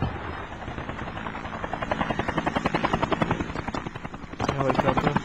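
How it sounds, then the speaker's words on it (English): A helicopter's rotor chops rapidly and steadily, growing louder and closer, with background sound from the video game SpyHunter: Nowhere to Run underneath. "Helicopter."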